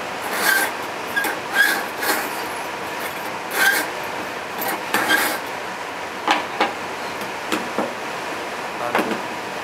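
Kitchen knife drawn across a handy whetstone-style sharpener, repeated short scraping strokes in a steady rhythm, close and moderately loud, with no talk.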